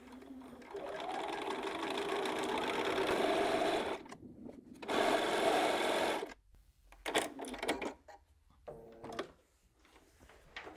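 A sewing machine runs long stitching bursts down a table runner seam. It stops and starts several times, with short gaps and a few clicks and handling noises between the runs.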